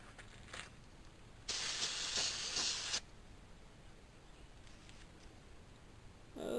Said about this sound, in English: Spray it down.